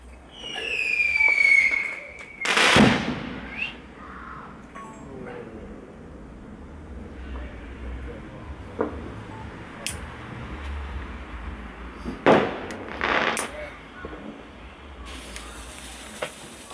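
Bad Boy Colour Bomb firework going off: a rising whistling launch, then a sharp bang, followed by scattered crackles and pops, with a few sharper bursts later, heard outdoors at moderate distance.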